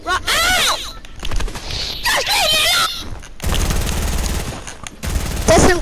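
Rapid SMG spray in Fortnite, bursts of gunfire crackling in dense clusters with game effects, loud and close, broken by short gaps and mixed with other in-game noise.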